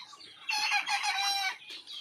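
Fifty-five-day-old chickens on a poultry farm, suffering from diarrhea, give loud, close, overlapping clucking calls that swell for about a second in the middle, with quieter calls around them and no talk.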